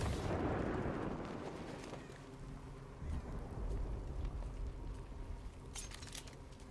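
Gunfire in the video game Batman Arkham Knight, heavy booming blasts and bursts layered with rumbling game effects, loud and dense at the start, then a second surge midway and a sharp crack near the end.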